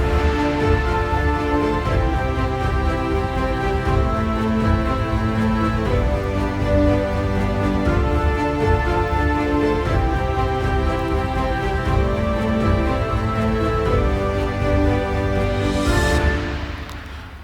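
An orchestral mockup built with Orchestral Tools Berlin Free Orchestra plays as dense, sustained ensemble harmony at an even level, with no voices, before trailing off at the very end.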